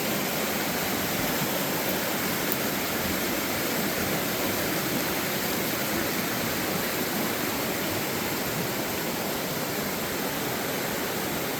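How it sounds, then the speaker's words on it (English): Hebron Falls on the Boone Fork Loop Trail roars in a dense, unbroken wash of falling water, heard close and constant with no other sounds. "This is just a close-up of Hebron Falls here."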